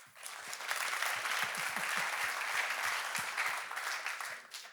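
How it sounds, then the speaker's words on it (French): An audience at an economic awards ceremony in Gland applauding an award presenter, a full round of clapping that swells quickly, holds steady, then eases off near the end. "que je vous propose d'applaudir"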